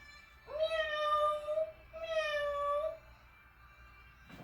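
A person imitates a cat during a children's yoga cat pose, voicing two drawn-out meows in a row, close and fairly clear in a quiet room.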